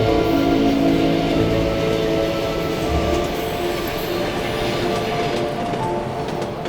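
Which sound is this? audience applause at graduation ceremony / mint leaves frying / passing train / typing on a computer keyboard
passing train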